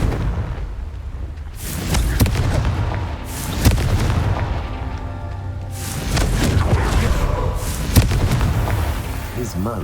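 A Confringo blasting spell explodes in the video game Hogwarts Legacy, with several loud booming blasts bursting one after another over a continuous bed of game sound and music.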